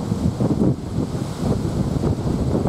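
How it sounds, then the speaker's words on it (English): Wind gusts outdoors in a steady, rough roar, buffeting the microphone with a constant low rumble and no voices. "But it is windy."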